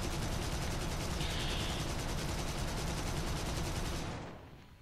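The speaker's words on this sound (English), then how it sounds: "Plus I shoot to slow myself down as well" Continuous rapid aircraft gunfire from a Fw 190 A-5 fighter in War Thunder, a dense unbroken rattle for about four seconds that then fades out.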